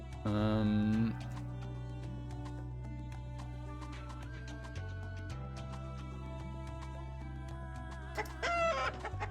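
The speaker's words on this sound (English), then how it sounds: "You caught the chicken." Chicken sounds from a dungeon-crawler video game: repeated clucks and a crowing burst at the start and again near the end, over looping game music with steady low tones and scattered clicks.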